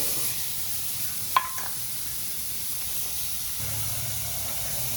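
Paneer hits roasted masala in a hot pan with a continuous steady sizzle and hiss, a brief sharp clink of a utensil partway through, and frying noise persisting to the end.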